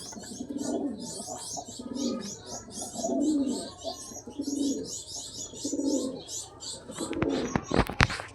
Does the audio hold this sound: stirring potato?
no